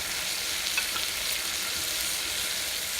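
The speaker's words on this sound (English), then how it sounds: "Let it fry for a minute or so" Oil sizzles steadily in a frying pan before eggplant is added, a constant close crackling hiss with small pops and no talking.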